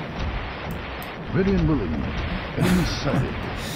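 Heavy booming gunfire from a tank battle in the Army Men RTS strategy game rolls on steadily, with a person talking over the explosive thuds.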